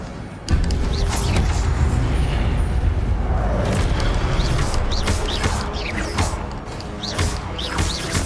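Incendio fire spell cast in the video game Hogwarts Legacy: a loud, sustained roaring burst of flame that starts abruptly and carries on with crackling, whooshing texture for several seconds.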